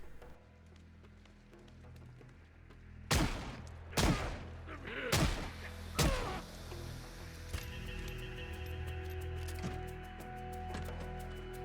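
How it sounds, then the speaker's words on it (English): Gunshots in the zombie survival game Project Zomboid, fired as citizens attack soldiers on guard duty: four sharp, loud shots at about one-second intervals, then quieter scattered pops over a low ambient background. "Cletus was awoken to the sound of gunshots as a group of citizens had finally begun attacking the soldiers on guard duty."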